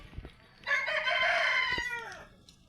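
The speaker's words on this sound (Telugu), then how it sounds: "ఈ రెండు పెట్టలు అయితే అమ్మకానికి కలవండి" A single loud, close rooster crow rings out at a farm where heavy three-kilogram hens are kept for sale, rising and falling over about a second and a half, then fading into quiet.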